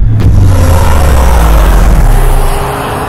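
A BMW XM 4.4-litre twin-turbo V8 hybrid pulls away, its engine a loud, steady, close rumble that holds for about three seconds before easing slightly, with no talk over it.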